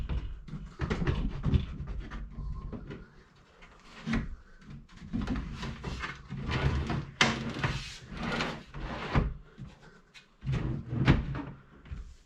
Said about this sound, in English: these drawer glides and everything work really well